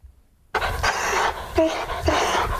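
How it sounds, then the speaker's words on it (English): A 10-year-old Labrador pants in quick, close, breathy bursts that begin abruptly after a short silence and come in uneven pulses. "Zach is a 10-year-old Labrador and the subject of an experiment"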